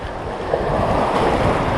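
Strong wind roars steadily across Laguna Lake, a constant rushing noise buffeting the microphone with water churning beneath it, no voices.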